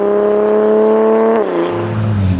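Strong, steady engine note from a 700hp Toyota Supra holding a constant pitch, then dropping as it shifts and pulls away on the road, loud and close with no talk.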